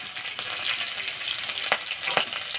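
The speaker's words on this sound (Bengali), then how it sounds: "তেলে দেবো গোটা জিরে, গোটা গরম মশলা, কোচানো কাঁচা লঙ্কা," Whole cumin, whole garam masala and slit green chillies sizzle and crackle in hot oil for pulao, a loud, steady frying hiss with a few sharper pops.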